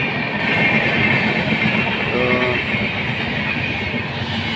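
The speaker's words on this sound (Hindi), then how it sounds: "सुबह सुबह ट्रेन भी आ रहा है अभी देखना" A train rolls past near a river in the morning, a steady loud rumble of cars on the rails with a brief horn-like tone in the middle, close and continuous with no talking.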